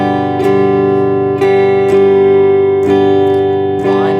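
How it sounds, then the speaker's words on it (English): Steady acoustic guitar strumming, full chords struck in a regular rhythm with brief pick attacks roughly every half second, close and loud, no voices. "We're gonna play strumming pattern number 3 now"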